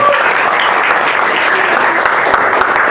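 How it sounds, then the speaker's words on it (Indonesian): Loud, dense applause from a seated group at a teacher-training class, many hands clapping continuously and close, with faint voices mixed in. "Tepuk tangan untuk kita semua."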